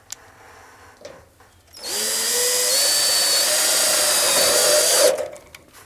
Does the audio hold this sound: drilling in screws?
yes